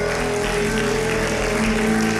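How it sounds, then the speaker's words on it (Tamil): A church congregation at a healing service claps together, a dense, continuous wash of hands at steady loudness for the whole stretch, with no speech over it. "நல்லா கைத்தட்டி ஆண்டவரை மகிமைப்படும்"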